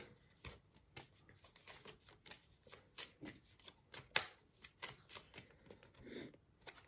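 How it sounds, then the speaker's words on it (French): Tarot de Marseille cards being shuffled and drawn, a run of quick crisp papery flicks and slaps in an irregular rhythm, close and fairly quiet, with no voice. "maintenant je vais prendre deux arcanes majeures du tarot de Marseille"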